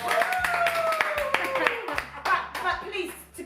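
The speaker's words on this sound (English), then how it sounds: "Can you give Rachel a round of applause?" Scattered hand claps from a small audience break out on a talk show, sharp individual claps mixed with someone talking over them and other voices nearby.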